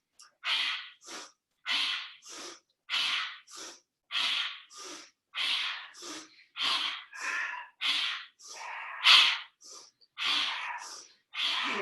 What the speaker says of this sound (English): I'm gonna speed this up now into almost that breath of fire action